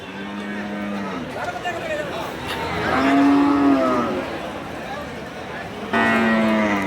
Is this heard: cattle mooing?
yes